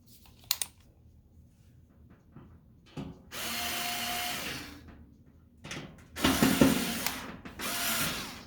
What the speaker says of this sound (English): So I'll be putting 2 screws in there, 2 screws in there, 2 screws in there, and 2 screws in here.